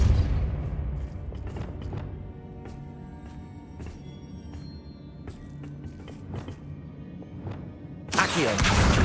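The Depulso spell cast in the Hogwarts Legacy video game, ending in a sudden loud whooshing blast after a stretch of scattered clicks and soft knocks.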